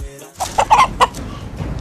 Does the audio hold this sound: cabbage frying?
no